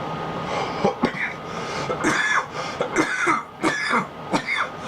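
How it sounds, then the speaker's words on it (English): Several harsh, close coughs and throat clearings come in a rough, irregular series after smoking a joint. "Right here is where I know when I'm gonna cough."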